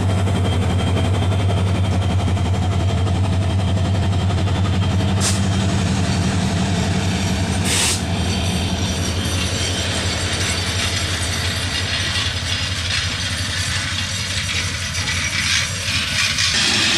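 A long Kurigram Express passenger train passes close by with a loud, continuous rumble and rhythmic wheel clatter, joined by a couple of sharp metallic clanks, sustained throughout.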